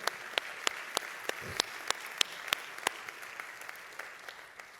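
Churchgoers clap in a steady, rhythmic beat, sharp distinct claps landing at an even pace over a soft room background, keeping time for several seconds.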